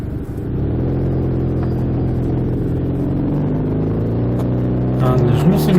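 A car climbs the steep bit of the Long Mynd on a single-track road, its engine a steady, loud mid-pitched drone that swells slightly near the end, with someone talking over it.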